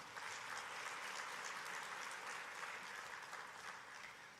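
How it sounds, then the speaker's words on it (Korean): A church congregation at an afternoon worship service claps together, a dense, even burst of applause that holds steady for several seconds. "네, 박수를 쳐주세요."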